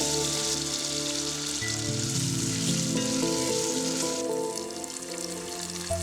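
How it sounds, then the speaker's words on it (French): Bacon lardons sizzle and crackle in hot oil in a pan over high heat, a steady bright frying hiss with faint kitchen clatter and a soft background tone. "Sautez quelques secondes."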